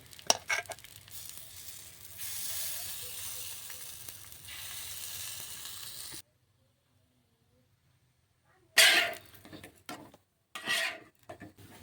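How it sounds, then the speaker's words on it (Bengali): Batasa pitha, a Bengali sweet, fry in a kadai. Close, scratchy sizzling runs for about six seconds, then the sound drops to near silence, and louder spitting bursts come back near the end. "দেখুন এগুলো আমার ভাজা হয়ে গেছে, সবগুলো আমি ভেজে নিয়েছি"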